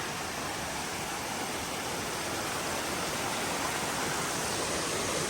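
A waterfall on Dry Creek near Alpine pours steadily, a constant, dense rushing hiss of falling water heard close up with no breaks.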